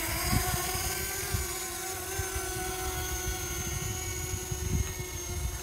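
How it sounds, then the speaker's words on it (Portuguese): A Fimi X8 Mini drone hovers on a test flight, its propellers giving off a steady, continuous whine with layered high tones that hold evenly throughout. No voices can be heard. "agora nós vamos efetivamente verificar se o drone ficou legal"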